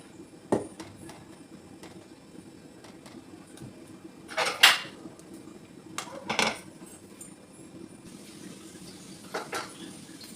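Idli batter is spooned into the hollows of an idli plate, heard as scattered metallic clinks and scrapes of a spoon against the plate, separated by quiet pauses.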